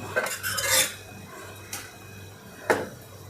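Spoon scraping and stirring a vaap vada curry mixture in a pan, a few soft scrapes and clinks at close range, fairly quiet, with no talking.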